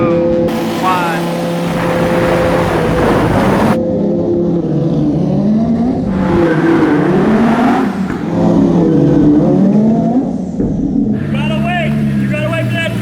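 A 1100hp Lamborghini Huracan and a Countach at a drag race, engines droning and revving loudly with rising and falling pitch, accompanied by crowd noise and people talking over the top.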